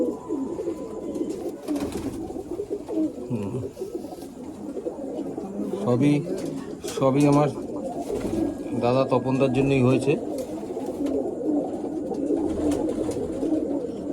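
Golden Jiriya line pigeons kept by a hobbyist coo in soft, throaty rolling bursts close by, while someone speaks over and between the calls.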